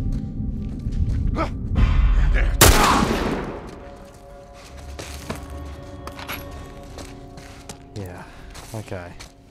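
Gunfire in The Last Of Us video game, a burst of shots loudest in the first few seconds, then scattered bangs and thuds, with talk running throughout.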